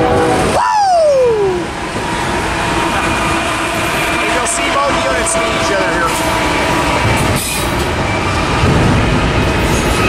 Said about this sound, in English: we got a Westbound Dash Giant leading a train here